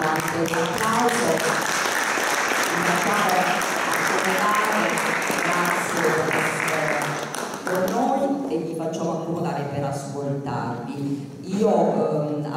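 Applause from an audience at a book presentation in Cosenza, welcoming the readers: dense clapping for about eight seconds that thins toward the end as a voice begins talking over it.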